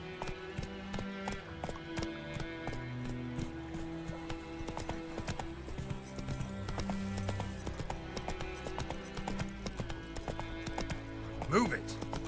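Roach, a horse in The Witcher 3: Wild Hunt, gallops with a steady, quick clip-clop of hooves over game music, with a brief whinny near the end and a voice speaking.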